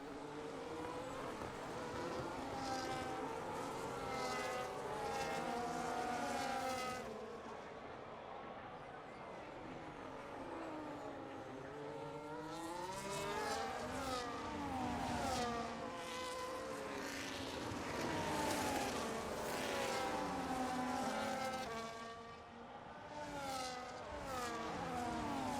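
Race cars screaming around a track in a racing video game, engines rising and falling in pitch as they pass under continuous commentary.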